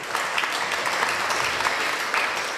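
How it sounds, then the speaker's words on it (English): Audience applause at a talk on democracy in the developing world, a dense, steady patter of many hands clapping at close range for the full length, with no voices over it. "So clapping to Janeček's team."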